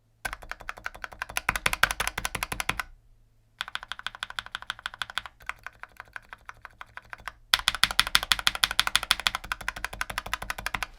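Mechanical keyboard typing with doubled-up rubber O-rings dampening the keys, a steady run of close, muffled clacks in bursts, with a brief pause near the start and another short gap before a final quicker flurry.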